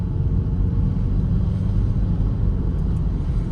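A Ford Focus 1 with an automatic gearbox, engine dropping back off the throttle: a steady, loud low rumble that holds without break, heard from inside or near the car.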